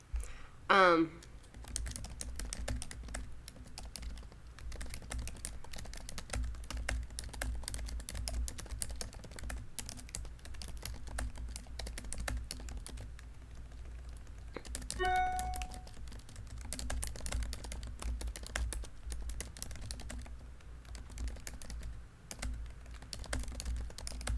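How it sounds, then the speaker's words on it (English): Rapid typing on a computer keyboard with long acrylic-style nails, a steady stream of close, clicky taps running throughout over a low background hum, with a brief vocal sound near the start. "I like how I'm just typing in the chat right now. It's like ASMR."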